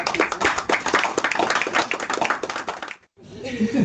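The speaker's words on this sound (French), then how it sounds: "On peut les applaudir." An audience claps at an event honouring an organisation that works for inclusion. Dense, lively applause fills the room, stops abruptly, and then a voice follows.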